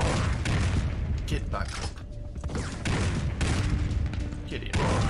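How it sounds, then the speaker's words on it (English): Repeated booming cannon blasts in the Western video game Red Dead, several heavy bursts spread across a few seconds over a rumbling, clattering battle din, with someone talking over them. "Oh shit, the cannon. They have activated the cannon."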